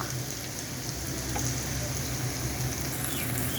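Steady, close sizzling of catfish frying with onions in a pan, a continuous crackling hiss that keeps an even level throughout with no pauses.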